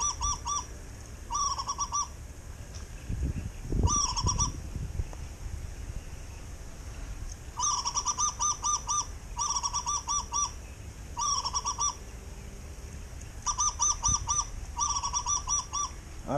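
Myna birds call near a rural cemetery, loud repeated bursts of chattering, whistling notes in clusters separated by short pauses, with a few low thumps and rustles in between.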